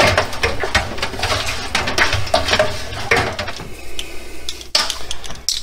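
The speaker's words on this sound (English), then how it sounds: "I'm going to add my salt here, add a little, I'm going to stir it up." Salt being stirred into goat milk cheddar curds, with close repeated clinks and scrapes of a utensil against a pot in an uneven rhythm, then quieter for a moment before a final knock.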